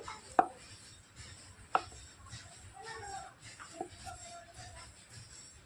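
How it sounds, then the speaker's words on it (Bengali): A knife taps and scrapes on a board while gathering layered lachha paratha dough made from leftover rice and dusted with cornflour, giving a few sharp close knocks between soft, quiet shuffling. "এবার ছুরির সাহায্যে একটা সাইড থেকে এইভাবে গুছিয়ে নেব সেম আগেরটার মতো করে"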